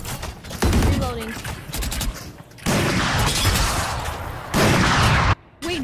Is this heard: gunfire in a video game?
yes